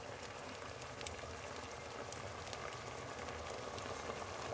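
Chicken corn soup with spring onion greens comes to a boil in a pot, a faint steady bubbling and soft popping simmer, heard alone and quiet throughout.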